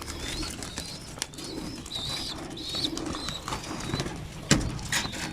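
Pigeons coo repeatedly in a loft, with soft, warbling calls rising and falling over steady rustling and faint scuffing, plus a sharp thump or wing flap near the end.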